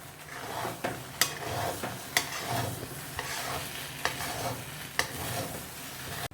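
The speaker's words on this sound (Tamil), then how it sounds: "இதே மாதிரி ஒரு ஒரு தடவையும் பரட்டி விட்டுக்கணும்" Rice upma stirred in a pan, a spoon scraping and turning it with a steady rhythm of sharp clacks over a soft continuous sizzle, close and clear with no talking.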